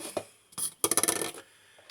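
Scissors trimming the cut edge of a plastic bottle being made into a pot: a close, crisp burst of crackly snipping lasting about half a second, heard alone.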